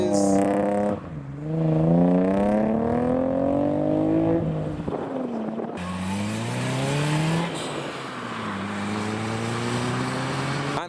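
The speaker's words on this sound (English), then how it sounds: "Another F-Type, another V6, another Coupe." A red Jaguar F-Type V6 coupe revs and pulls away from a car show, its engine note rising through several climbing sweeps, loud and close before fading as it drives off.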